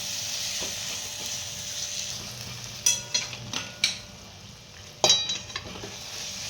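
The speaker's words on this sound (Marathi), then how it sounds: "आता गूळ आपल्याला मेल्ट करून घ्यायचा आहे आणि याचा पाक तयार करून घ्यायचा आहे" Jaggery melting into syrup in a pan over medium flame, a faint low sizzle throughout with a few sharp spoon knocks and scrapes against the pan partway through.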